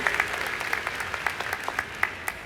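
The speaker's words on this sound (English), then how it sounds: "Give yourself a round of applause." Fall 2024 graduating class of Humanities and Social Sciences applauding at a university commencement ceremony, a steady wash of many hands clapping with sharper individual claps standing out, heard from a distance across a large hall.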